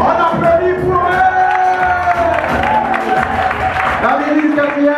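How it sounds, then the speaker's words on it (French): Audience applause and cheering at a French public event, a dense wash of clapping with whoops and shouting from the crowd, steady and loud throughout, with voices mixed in. "On applaudit pour eux."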